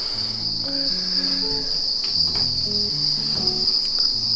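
Farmed crickets chirp in a continuous high, shrill trill that stays steady and fairly loud throughout, with faint low rustling beneath.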